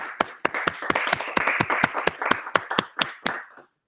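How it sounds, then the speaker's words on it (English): Small group clapping at the close of a deep learning workshop session, a dozen or so sharp, distinct hand claps in an uneven rhythm, close and fairly loud, stopping abruptly after about three and a half seconds. "Round of applause."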